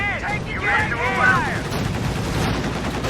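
Machine gun and mortar fire rumble through a match of a WWII strategy game, a steady low barrage of shots and blasts beneath lively voices talking over the action.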